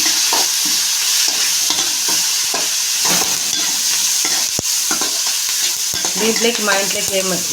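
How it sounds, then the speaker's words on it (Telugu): A spatula stirs an egg and onion fry seasoned with turmeric in a hot pan, the scraping strokes coming in an uneven rhythm over a loud, steady sizzle, with no talking. "పసుపు కొంచెం వేసుకున్నాం. ఇవన్నీ ఒకసారి కలుపుకున్నాం."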